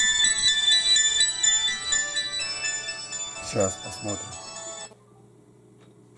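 An incoming call sets a phone ringtone chiming loudly and steadily for several seconds before it cuts off, with a voice speaking over the ringing.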